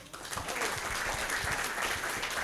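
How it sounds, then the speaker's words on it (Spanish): A crowd at a book presentation claps in a steady, moderately distant round of applause that carries evenly from start to finish, with a faint murmur of voices beneath. "Don Pueblín, un aplauso."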